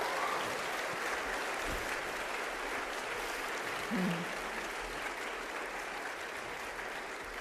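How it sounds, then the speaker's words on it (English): A seated audience applauds after a performance at an awards event, a continuous, even wash of clapping from many people that sounds distant and fairly quiet and holds for several seconds. "Please, once more, give a big round of applause, everyone, to Christophe Delpoort, Paulina Klaas, and Sarah Lolan."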